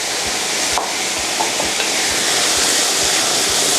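Bean sprouts stir-fry with previously fried shiitake mushrooms in a hot pan, a loud, dense, continuous sizzle with regular low thumps of tossing or stirring.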